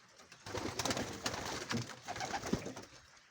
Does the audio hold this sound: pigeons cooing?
yes